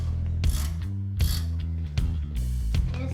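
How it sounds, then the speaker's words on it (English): A ratchet tool loosens caliper bracket bolts on a vehicle brake assembly, several bursts of rapid clicking and mechanical whirring close to the mic, separated by brief pauses, no talking. "So we're gonna pull these bolts out, the ones that Sarge brought us last night."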